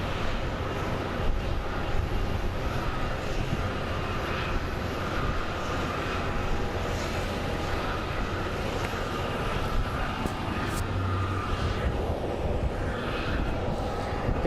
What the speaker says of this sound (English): Here it comes, the Boeing 737 MAX 8 coming from New York.